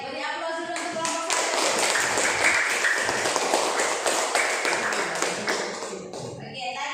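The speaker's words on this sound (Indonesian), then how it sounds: "Beri aplaus dulu untuk kelompok" A classroom of students gives a presentation group a round of applause, continuous fast clapping from many hands that fades slightly toward the end.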